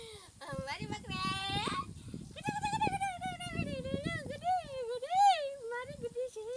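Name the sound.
goat bleating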